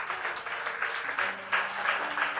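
Congregation clapping hands during a Sunday church service, a dense, steady patter of many hands at moderate volume, continuous throughout with a faint tone underneath.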